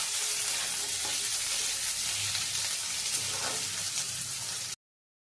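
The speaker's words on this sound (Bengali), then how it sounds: "আলুটাকে ভালো করে ভেজে নেব" Potatoes frying in a pan with onions already in it, a steady broadband sizzle that holds evenly for nearly five seconds and then cuts off abruptly.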